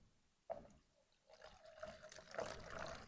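Water poured indoors in an office to mimic a small waterfall, a quiet trickling and splashing stream that starts with a faint splash and grows steadier and slightly louder.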